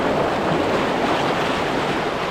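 Rushing river rapids at a steep, hard-to-climb stretch, a dense continuous roar of churning water, loud and close with no pauses and no voices.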